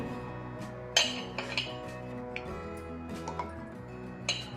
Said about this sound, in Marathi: मी आता ह्या मिक्सरच्या भांड्यात टाकून घेते